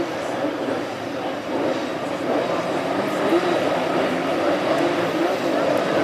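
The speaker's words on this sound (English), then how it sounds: "Revving the engines now" Classic hot rod race cars rev their engines together before the start of a heat at Hednesford, a loud, continuous mass of engine roar that swells slightly toward the end.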